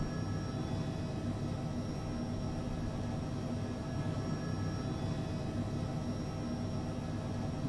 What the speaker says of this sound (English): a little bit of collective, and we're taxiing